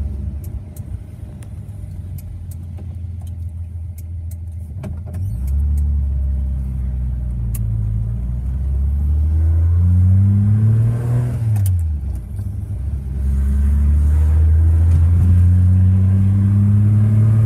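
An old small car's engine idles low, then revs and accelerates in rising, sweeping pulls, dips briefly and climbs again, loud and close throughout with no talk over it.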